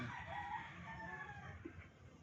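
Pullets cluck and murmur in the background, faint and continuous, with a low rumble of farmyard noise throughout.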